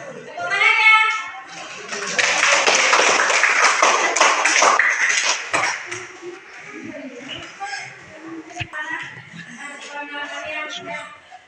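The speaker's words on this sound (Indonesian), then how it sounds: "Ya, tepuk tangannya." An audience applauds after a group presentation, with a dense burst of clapping lasting a few seconds, framed by speaking voices before and after.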